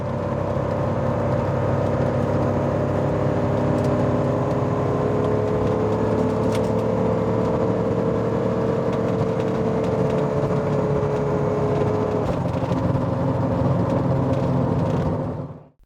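A Porsche 928 with a troublesome intake drives with its engine held at high revs, a loud continuous drone and whir with a slowly shifting tone before cutting off abruptly at the end.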